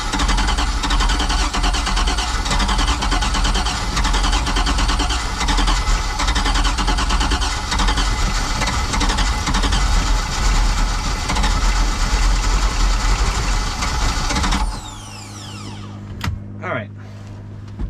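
An old outboard-style boat engine runs loud and steady after fuel is pumped into it, then cuts out abruptly near the end, leaving a few faint clunks.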